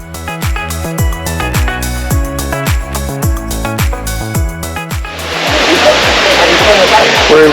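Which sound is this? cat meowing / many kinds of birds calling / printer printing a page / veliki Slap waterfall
veliki Slap waterfall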